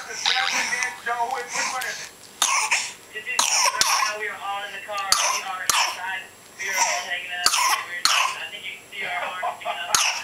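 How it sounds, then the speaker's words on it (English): A person coughs and clears their throat again and again, with sharp repeated bursts mixed into ongoing talking. "do you have a little cough?"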